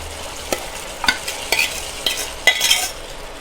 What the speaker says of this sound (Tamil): வெள்ளைப்பட்டாணி இதில் சேர்க்க போகிறேன்.